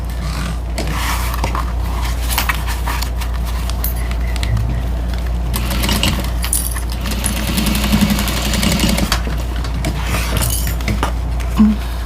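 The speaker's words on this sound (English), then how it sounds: "I'm going to sew both sides as we're going" A sewing machine stitches a fabric water bottle holder with a continuous, close mechanical hum and rapid needle chatter, pausing briefly in between runs.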